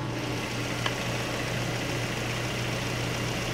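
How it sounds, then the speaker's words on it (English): A Mazda 3 sedan's engine runs with the hood open, a steady, even idle hum heard close up with no talk over it. "We'll pop the hood, listen to this baby run"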